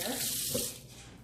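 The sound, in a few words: rinsing hands under a running sink tap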